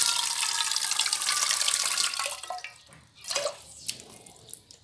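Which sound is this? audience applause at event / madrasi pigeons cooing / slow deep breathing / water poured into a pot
water poured into a pot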